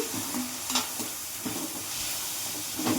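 Vegetables for pasta with tomato and capsicum stirred in a frying pan, a steady low sizzle with soft intermittent scrapes of the spoon against the pan, close but fairly quiet.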